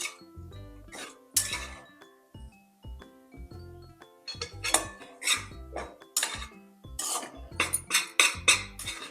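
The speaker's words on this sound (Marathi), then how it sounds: "परत चांगलं मिश्रण परतून परतून घेणार आहोत" Moong dal halwa mixture being stirred with added ghee in a pan: bursts of scraping and clinking of a metal spoon against the pan in an uneven rhythm, close and fairly loud, separated by short quieter gaps.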